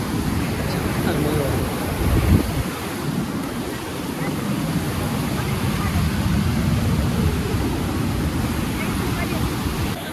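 At the top of the first tier of Nanamenachi waterfall, water rushes in a steady broadband roar for the whole stretch, with wind buffeting the microphone and a brief louder splash-like burst early on.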